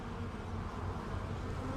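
Honey bees hum around an open hive with brood frames exposed, a close, continuous buzzing drone that holds steady with no speech over it.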